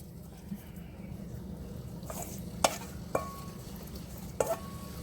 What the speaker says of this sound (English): this is our shrimp. It's all seasoned up, everything. We're gonna add it to the pot.